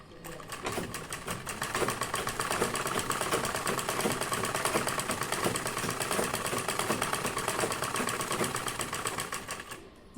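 A domestic sewing machine stitches a bra-cut blouse with lace trim along the corner, running in one long steady whirring burst at close range, with no talk over it.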